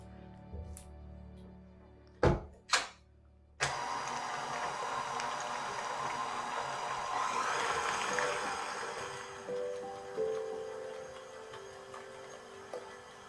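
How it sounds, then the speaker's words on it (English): Stand mixer fitted with a flat beater churning keto cheesecake batter, a steady mid-loud motor whir with scraping texture running continuously after a few sharp clicks at the start, no talk. "I changed the blade on my mixer to the flat spatula just so it'll scrape the sides for me"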